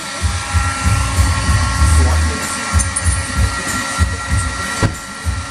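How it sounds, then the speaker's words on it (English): A heat gun runs while heating the paint on a Mazda Miata fender before rolling, a steady blowing whir with low rumbling pulses and faint handling noises nearby. "you don't want to hold the heat gun in one place for too long, or else it'll burn the paint"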